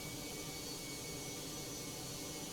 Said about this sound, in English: Those engines flared up.